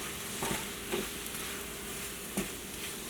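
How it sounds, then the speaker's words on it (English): Vanilla extract poured over peaches cooking in a pan for a fake peach cobbler, giving a soft, steady sizzle with a few faint stirring scrapes, heard close and alone. "Get us a nice little sizzle going."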